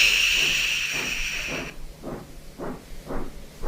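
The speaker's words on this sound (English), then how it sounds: "steam hissed from his safety valve in an alarming way" Loud steady hiss of steam escaping from a steam engine's safety valve, filling the first half and then cutting off, leaving a faint rhythmic chuffing of the engine behind.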